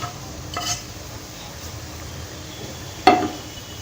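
Boiled and fried eggplant goes into a frying pan with soft stirring scrapes over a low sizzle, punctuated by a couple of brief utensil clinks against the pan.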